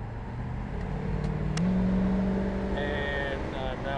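Custom 1966 Ford Mustang limo accelerating, heard from inside: a moderate engine note climbs in pitch and holds steady, with a brief faint tone near the end.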